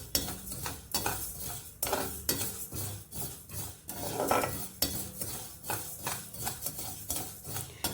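Fenugreek seeds and spices roasting in a pan over a low flame for a fenugreek-leaf tomato pickle, with a spoon repeatedly stirring and scraping in a steady rhythm and a soft sizzle underneath.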